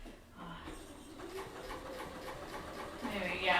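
A sewing machine stitching fabric in a home studio, a fairly quiet rhythmic mechanical whir with regular needle pulses, continuing steadily and rising slightly at the end.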